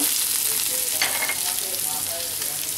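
Two chopped onions hitting hot oil in a pan while making cauliflower samosas, a steady loud sizzle with occasional stirring scrapes throughout.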